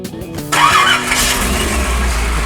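A customized Studebaker Avanti with a twin-supercharged Olds Rocket engine making 1,100 horsepower cranks briefly, then catches and roars to a loud, rough idle that holds steady, close by, after a faint voice at the start.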